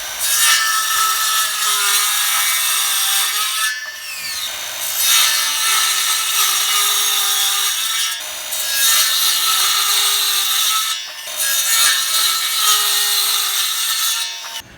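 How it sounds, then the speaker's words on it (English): Saw cutting a 45-degree bevel into a wooden handrail post with the blade raised to a partial depth, heard in loud, steady passes of about four seconds each, broken by three short pauses. "we're still gonna cut on the 45, but this time we're gonna raise our blade height so we don't cut all the way through the post"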